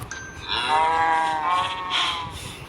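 Cows mooing in the Minecraft video game on a farm, a long drawn-out low moo followed by a second shorter one over a steady background hum, with no talking.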